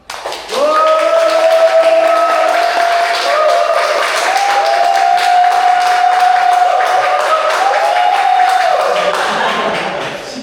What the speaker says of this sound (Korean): 귀한 시간 내주신 우리 민상 코치님께 환영의 박수